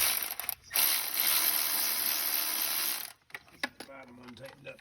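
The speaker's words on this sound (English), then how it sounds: "We got to tighten the bolts up." Ratchet tightening starter bolts on a Pontiac Vibe, a close, rapid clicking ratchet run lasting a couple of seconds, followed by a pause and a few short clicks and metallic handling sounds.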